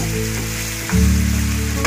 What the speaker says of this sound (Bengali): মাছটা কিন্তু অনেকটা ভাজা হয়ে গেছে